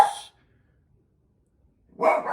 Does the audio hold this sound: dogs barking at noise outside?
yes